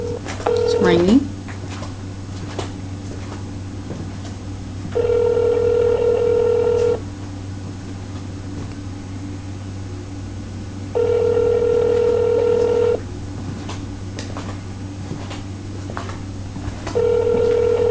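A phone line's ringback tone repeats in long, evenly spaced bursts over a steady low hum, with a faint voice at the start.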